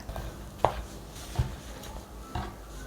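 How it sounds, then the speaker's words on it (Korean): Kitchen knife cutting eggplant into thick slices on a cutting board: three separate crisp chopping knocks spaced apart, close and moderately loud over a quiet room. "가지는 좀 도톰하게 썰어 주세요"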